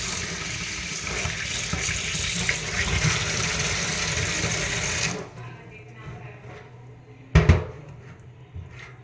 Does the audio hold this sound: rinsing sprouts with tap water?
yes